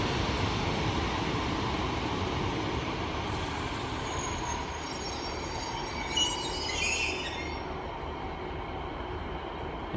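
A Class 150 Sprinter diesel multiple unit at Exeter St David's station, its steady rumble and rail noise continuing throughout, with a brief wheel squeal partway through and no talk.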